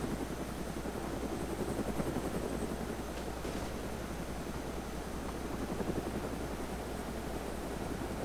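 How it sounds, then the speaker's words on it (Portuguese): A helicopter's steady rotor chop and engine whine drone continuously at low volume in a video game as it crashes, a dense mechanical rumble with no talking. "O helicóptero cai."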